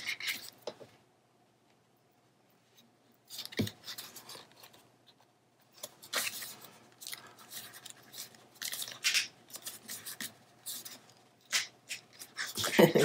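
Tape being pulled and cut while building a paper craft mini album, close scratchy bursts of tearing and snipping separated by quiet pauses.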